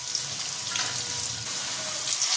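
Diced potatoes cooking in hot oil seasoned with salt and turmeric, giving a continuous bubbling sizzle up close, steady from start to finish with no voices.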